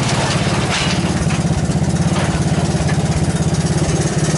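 A Honda ATC 200S three-wheeler engine runs close and loud with a steady, rapid mechanical putter at idle, its pulsing rhythm rising slightly as the throttle is blipped.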